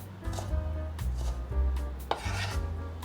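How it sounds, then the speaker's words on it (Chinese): A knife slices celery diagonally into pieces on a cutting board, giving about half a dozen crisp, close chopping taps at an uneven pace over a low kitchen hum. "把芹菜斜切成片状"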